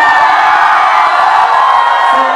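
A crowd at a live music performance cheers and shouts in a loud, sustained roar with no pauses, voices blending into one dense wash of sound.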